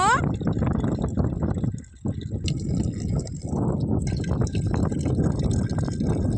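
A child pours water onto plants from a container, a steady splashing trickle running almost the whole time with a brief pause, while an adult talks over it.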